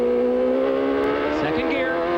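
An IndyCar race car at Road America in 1994 runs off the track with its outside wheel and bounces over the curbs, its loud, steady engine drone shifting pitch as it thumps across the kerbing.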